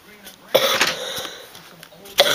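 A couple of sharp, close coughs break up a stretch of muffled voice, with a brief throat-clearing burst near the end.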